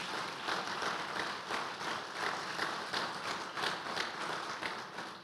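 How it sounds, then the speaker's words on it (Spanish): A church congregation applauds at a service, a moderately distant, steady patter of many hands with a slightly rhythmic pulse, sustained without pause and no clear speech over it. "Denle un aplauso al Señor"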